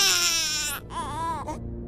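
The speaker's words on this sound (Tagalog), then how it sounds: "Parehong natigilan ng dalawa nang biglang umiyak si Talasa." A baby wails in two loud, close bursts, each cry rising and falling with a brief catch between them, used as a sound effect in a Filipino aswang folk tale.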